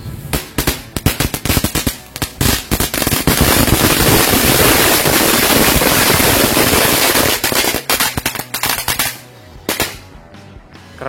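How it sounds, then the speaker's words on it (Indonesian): Telur dino pretek firecrackers go off in a loud, rapid crackling barrage close by, a dense string of sharp pops that thins into scattered bangs before falling quiet. "Selanjutnya kita nyalain mercon telur dino pretek nih guys."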